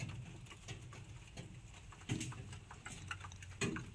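Pigeons coo softly inside a pigeon house holding five pairs, low throaty calls repeating a few times amid faint ticking and shuffling, quiet and fairly close.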